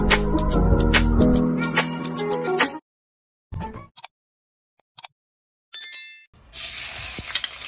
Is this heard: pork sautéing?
yes